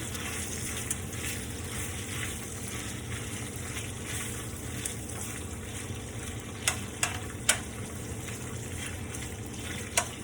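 Hash brown potatoes fry in a breakfast pan with a steady soft sizzle and hiss throughout, a few sharper pops and crackles near the end.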